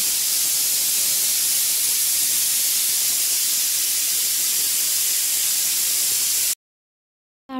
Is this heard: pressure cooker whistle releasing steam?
yes